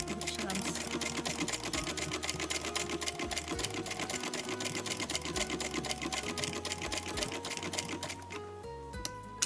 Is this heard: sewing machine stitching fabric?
yes